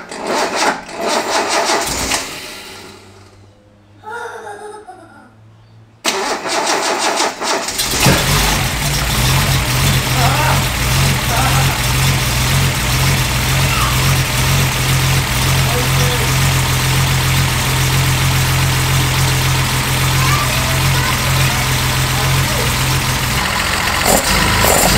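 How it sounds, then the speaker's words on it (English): A Datsun 240Z's L28 stroker engine with individual throttle bodies cranks briefly, catches with a surge, then settles into a steady, loud idle that runs on without a break. "So once it was all set up, it was time to start the car."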